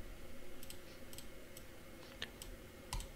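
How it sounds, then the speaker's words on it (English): Computer mouse clicking at a desk while styling web interface tabs, a few sharp, quiet single clicks scattered across a low background hum, with a louder double click near the end. "I don't know if you can hear me clicking, but I click away"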